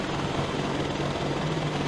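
A helicopter in the video game DayZ flies overhead with a steady, loud rotor and engine drone, continuous and unbroken, with no voices.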